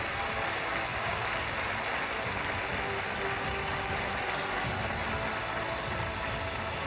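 Audience applause at the Miss Universe Thailand 2022 pageant, a faint, steady wash of clapping from a large crowd with no break.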